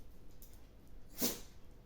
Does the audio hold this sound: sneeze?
yes